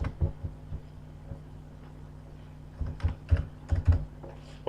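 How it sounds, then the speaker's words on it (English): Typing on a computer keyboard, with a few scattered soft keystrokes followed by a short, faster cluster of louder clicks close by in a quiet room. "then you can type."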